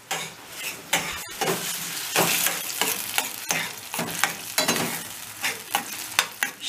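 Menemen of eggs, tomatoes and peppers sizzles steadily in a frying pan while a utensil stirs and scrapes through it in repeated close strokes, with no talking.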